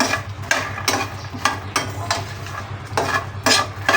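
Fox nuts (makhana) tossed and stirred in a pan for light roasting, giving repeated scraping, rattling strokes of a spoon against metal at a steady rhythm over a low background hum, close and fairly loud.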